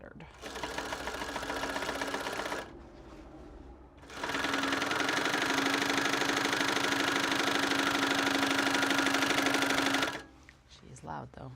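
A sewing machine stitches a belt bag made from Japanese fabric, running loud and close in two long bursts with a pause between, a voice heard faintly around it.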